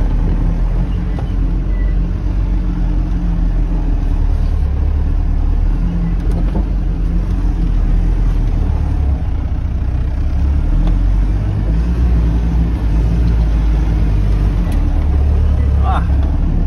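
An off-road vehicle grinds in second gear over Sahara dunes in Tunisia. The engine is a loud, continuous, deep rumble heard from inside, with people talking over it.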